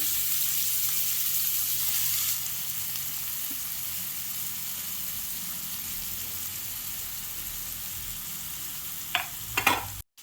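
Finely chopped onions fry in oil for a stuffed capsicum dish, giving a constant close sizzle that fades slightly over ten seconds, with a few clinks of stirring near the end.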